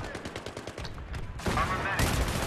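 AEK-971 assault rifle fire in Battlefield 3 gameplay, rapid automatic bursts that swell louder and denser toward the end, with a voice talking faintly in the background.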